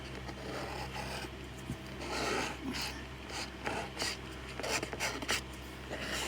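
Hake brush scratching across watercolor paper in quick, raspy strokes, close up, with bursts of scraping that rise and fall irregularly.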